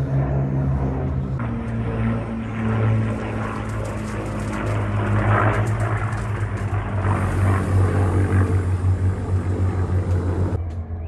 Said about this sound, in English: So this is Memorial Day, and there's a flyover going on right now.